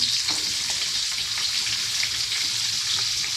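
Shallots frying in hot oil in a pan for bitter gourd pulusu, a loud, dense, continuous sizzle with faint crackles throughout, close by and steady.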